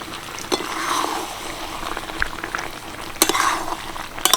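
Spice mix stirred into chalta (elephant apple) pickle in a pan over heat, giving a continuous bubbling sizzle broken by sharp scrapes and clinks of the spoon against the pan.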